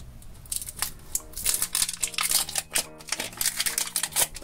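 Crinkly plastic rustling and a zipper rasp in quick, irregular bursts, close up, with a low hum beneath and no talking.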